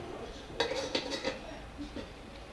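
A Tibetan 1200 ml titanium cooking pot with its lid is handled near an Ikea hobo stove, giving a few close metallic clinks and knocks spread over a couple of seconds, with no talking.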